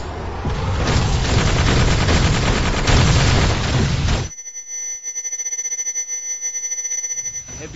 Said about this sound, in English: Heavy grenade fire here.